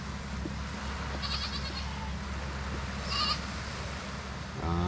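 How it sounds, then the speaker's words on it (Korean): Goats bleating as a family of them passes by outdoors on a rainy day near the coast, two short bursts of bleats at moderate distance over steady background noise of rain or surf. "저쪽에 또 염소 가족들이 또 지나가고 있네요."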